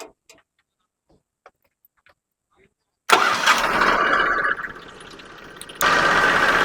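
An old tractor is cranked into life after a stretch of near silence. The engine catches abruptly and runs loud and close, dips in level for a moment, then returns to a strong, steady rumble.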